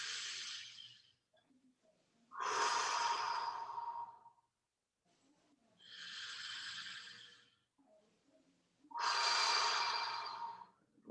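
Slow, deep breaths taken during a guided stretching exercise, four long airy inhales and exhales in steady rhythm, close and fairly loud with quiet pauses between them.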